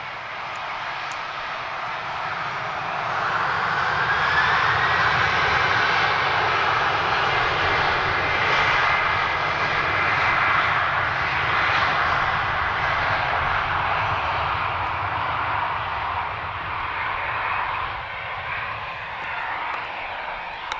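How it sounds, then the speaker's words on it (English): Brazilian-designed passenger aircraft engines at Lisbon Airport: a sustained distant turbine roar and hiss that swells and holds for about twenty seconds, then slowly fades as the plane moves away. "they've got a really good climb rate as well. Brazilian designed aircraft"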